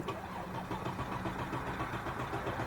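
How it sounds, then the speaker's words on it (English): A Mercedes-Benz GL350 engine idling steadily after cranking, with a low, even mechanical hum that holds at a constant level throughout; the car has an intermittent crank-no-start fault. "So the engine sounds good."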